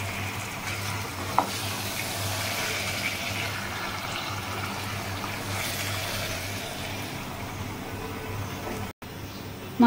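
Beef with bone and fat, coated in spices, sautéing in a pot with a continuous low sizzle and hiss, steady and moderately loud, with occasional stirring and no speech.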